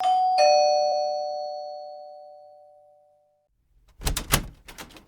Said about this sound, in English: I rang her bell.